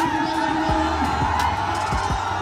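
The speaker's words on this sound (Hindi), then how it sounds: "तो वहाँ कितनी भीड़ थी ये आप इस वीडियो के थ्रू देख सकते हैं, गजब की भीड़ थी" A large crowd of fans at a meetup event in Jharkhand, a continuous roar of voices and cheering, loud and dense throughout with occasional low thumps underneath.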